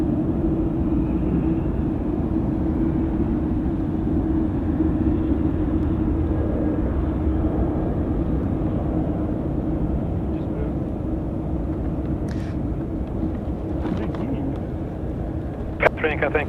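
An airliner slowing on taxiway Alpha at Sydney Airport, a loud steady jet rumble and whine held throughout at close range, with faint clicks near the end.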